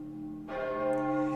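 A single church-style bell struck once as a sound effect, its loud ringing tone starting abruptly and sustaining with a rich, humming decay over a low steady drone.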